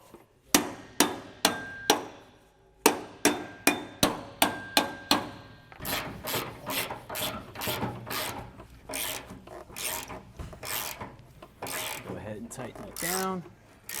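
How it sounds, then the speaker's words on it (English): Repeated hammer blows drive a bolt through the eye of a 4-leaf double-eye spring for a 4,000-lb trailer axle, sharp metallic strikes in quick bursts with short pauses, then denser scraping and knocking as the bolt works in, with faint talk. "then take a little bit of that play out and then hammer it some more"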